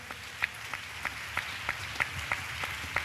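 A church audience claps in a quick, steady rhythm, each clap sharp and evenly spaced over a soft, constant background. The sound is fairly quiet and distant, with no voices.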